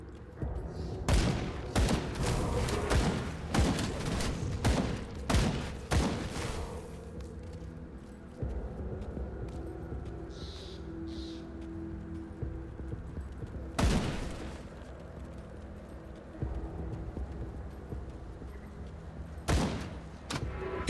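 Bursts of gunfire crack out in Grim Dawn as shots are fired at a sign, a rapid cluster of sharp reports early on, then scattered single blasts later over a low ambient hum.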